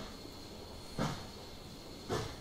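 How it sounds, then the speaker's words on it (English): Two soft, evenly spaced steam chuffs from a steam locomotive on a holiday steam train in Train Simulator 2016, faint hissing puffs over a quiet background hum. "the chuffing's starting to get regular now"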